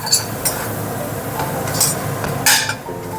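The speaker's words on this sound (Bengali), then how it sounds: "এবার 2 মিনিটের মতন আরেকটু কষিয়ে নেব সমস্ত মশলার সাথে নারকেলটা মিশিয়ে" Grated coconut is sautéed with spices in a pan over low to medium flame, with a spatula scraping and stirring in steady close strokes and occasional bright metallic clinks over a soft background sizzle.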